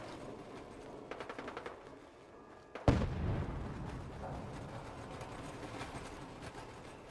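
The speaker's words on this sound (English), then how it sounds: "Why are they shooting?" Gunfire in the video game Fallout 4: Nuka World: a sharp, close blast rings out, then scattered distant shots and rumble continue faintly over a quiet game-world background, with no talking.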